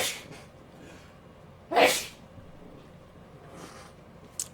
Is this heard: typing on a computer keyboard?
no